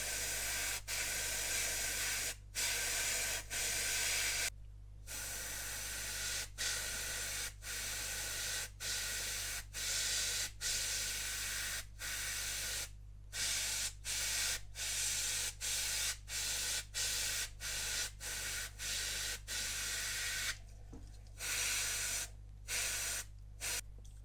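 Airbrush spraying a primer coat of Mr. Hobby levelling thinners onto an Airfix 1/72 Avro Vulcan B.2 model: a steady close hiss in repeated bursts, broken by several short pauses.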